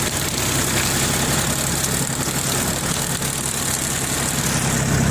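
A tractor pulling a homemade potato haulm mower runs with a continuous loud engine drone and mechanical rattle, close up and steady throughout with no talking.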